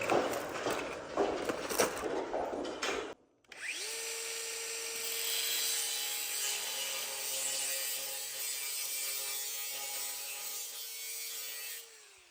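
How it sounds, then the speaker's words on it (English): Scrap material for a pig pen being cut with a power saw: a few seconds of rough handling and scraping, a brief silence, then the tool spins up into a steady, loud cutting whine that runs until it stops near the end. "I'll cut through halfway, and then I'll flip it and cut the rest of the way."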